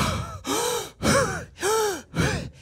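A voice imitates an athlete's heavy breathing after a sprint: five loud, close gasping breaths in a steady rhythm, each a rough rushing exhale with a voiced edge, no other speech.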